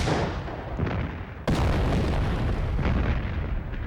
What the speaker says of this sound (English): At 0 hour, the German guns open up.